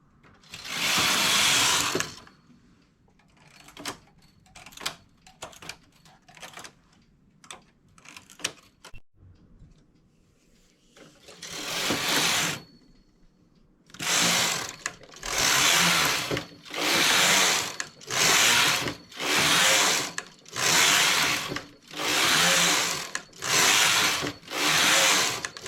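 A knitting machine works a simple hat, its carriage swept back and forth in loud whooshing, rattling passes; irregular short clicks and pauses come first, then a steady run of rhythmic full passes near at hand.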